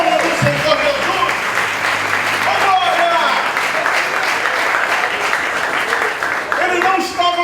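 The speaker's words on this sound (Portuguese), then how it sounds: "Só quem está recebendo esse despertamento, aplauda e glorifica o nome do Senhor Jesus." Church congregation at a youth worship service applauding, a steady sustained wash of clapping over the whole stretch with a preacher's voice and shouts rising above it.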